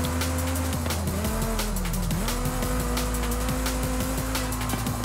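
Corvette racing in Forza Horizon 5, its engine droning loud and steady throughout with shifting pitch as it revs, and repeated tire squeals and skids cutting across, no voices present.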